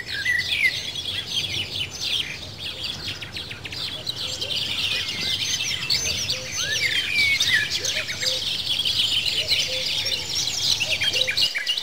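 Continuous chirping and tweeting bird calls, several overlapping and fairly close, fill a museum bird hall devoted to birds of Iowa and the world, steady throughout with no talking.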